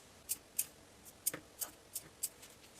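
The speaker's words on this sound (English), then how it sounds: "Snip into the curves of the seam allowance." Scissors make about seven quick, crisp snips into the curved seam allowance of a stretch denim jeans pocket, close and quiet, in an uneven rhythm with no talking.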